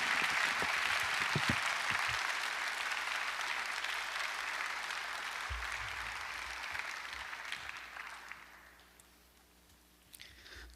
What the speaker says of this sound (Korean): 우리 뜨겁게 박수로 하나님께 영광 돌리시고